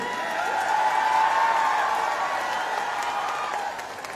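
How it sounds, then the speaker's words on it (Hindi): A rally crowd at an election gathering in Chhachhrauli, Haryana claps and cheers in a steady, sustained wash of applause welcoming Mayawati, with a faint tonal hum running through it. "उनके लिए जोरदार तालियों से स्वागत करें"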